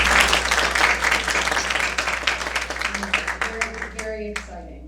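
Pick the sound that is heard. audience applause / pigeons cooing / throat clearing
audience applause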